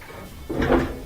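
An LG gas dryer door is pushed shut during a gas valve repair, a single muffled thump about halfway through, close and brief.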